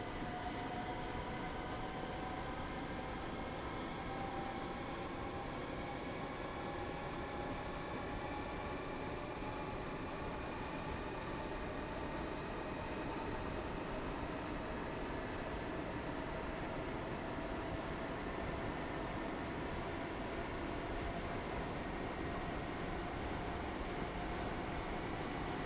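An electric train on the Birmingham Cross City line in Train Sim World 3 runs with a steady rumbling roar, and thin motor whines slowly climb in pitch over the constant noise.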